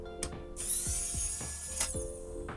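A Wowstick 1F+ electric precision screwdriver undoing screws on an old laptop gives short whirring motor runs broken by sharp clicks and ticks, close and fairly quiet, with no talking.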